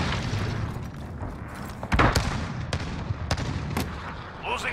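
An enemy cruise missile strike in the video game Call of Duty: Modern Warfare lands as a few heavy, muffled booms and thumps. They rise over a constant rumbling battlefield bed of distant fire.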